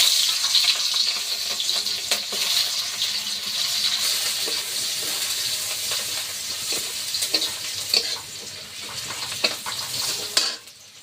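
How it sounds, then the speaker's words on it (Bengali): Onions dropped into hot oil sizzle and crackle steadily in a home village kitchen, with occasional stirring clatter and brief clinks of utensils near the end; close and continuous, no talking. "তেলটা গরম হয়ে গিয়েছে এবার পেঁয়াজ দিয়ে দিচ্ছি"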